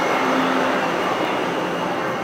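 Elevated metro train running in Taiwan, heard from inside the car as a steady, loud rumbling roar with a brief tonal whine early on and no talking.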